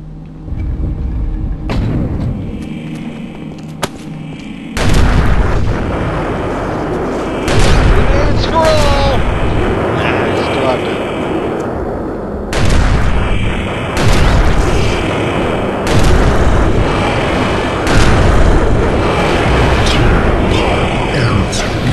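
Repeated grenade explosions from the video game Eternal Darkness, loud booming blasts arriving every few seconds with rumbling tails that overlap into a dense, continuous roar.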